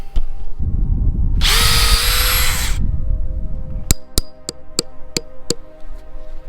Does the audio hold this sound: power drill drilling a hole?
yes